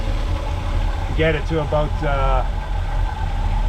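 A 1979 GMC Vandura engine with a new Edelbrock carburetor idles steadily with a low, even rumble, while someone talks over it for a few seconds.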